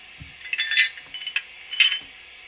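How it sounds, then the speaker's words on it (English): Coupling clank effect from a Bachmann 009 DCC sound-fitted Double Fairlie model locomotive: a few bright metallic clinks and rattles in quick clusters, close and fairly loud, with a dull knock at the start. "Thirteen is a coupling clank."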